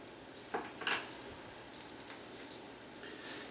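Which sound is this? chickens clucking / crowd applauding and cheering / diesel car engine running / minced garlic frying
minced garlic frying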